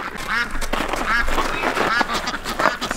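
Ducks quack repeatedly in short nasal bursts, close and loud, near their frozen water dish during winter.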